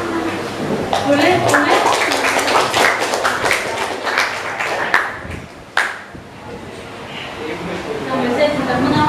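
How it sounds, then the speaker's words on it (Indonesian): A classroom audience claps in a burst of sharp, fairly close hand claps that fade after a few seconds, with people talking over and after it. "Tepuk tangan. Boleh?"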